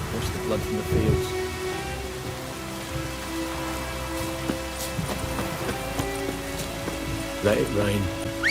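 Steady rain with low rumbling thunder in the Witcher 3: Wild Hunt game world, a continuous wash of falling water under game music, with voices speaking over it.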